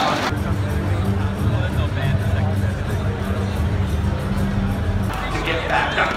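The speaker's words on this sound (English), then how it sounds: "Look at that crowd." Large crowd at the Hearthstone World Championship, a dense steady babble of many voices filling the hall, loud and continuous throughout.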